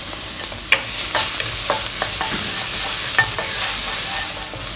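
Four chopped garlic cloves fry in a pan over medium heat, giving a steady, close sizzle with scattered sharp scrapes and clicks from stirring throughout.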